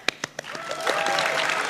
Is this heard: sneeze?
no